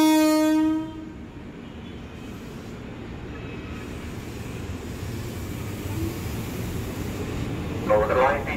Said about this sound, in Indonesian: Jalur 12 dari arah utara akan masuk komuterline tujuan akhir stasiun Bogor